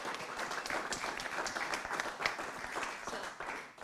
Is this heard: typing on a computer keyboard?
no